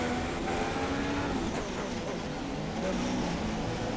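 A Ferrari Formula 3 race car engine in a racing game set at the Monaco Grand Prix, with a steady, moderately loud drone that shifts pitch slightly and continues on its own throughout.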